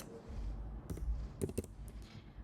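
A short burst of a few quiet computer keyboard keystrokes as a search query is typed, soft clicks spaced irregularly over a faint background hum.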